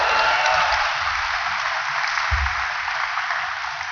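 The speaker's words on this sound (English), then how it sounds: "Let's give the U.S. Space and Rocket Center a round of applause." Audience at a NASA Space Apps Challenge hackathon finale in Huntsville applauds steadily, a dense wash of many hands clapping near and loud for about four seconds, with no talk over it.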